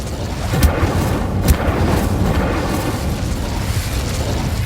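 Fire spell Incendio cast in the video game Hogwarts Legacy, a loud continuous roaring burst with two sharp crackling pops early on, heard alone without talk.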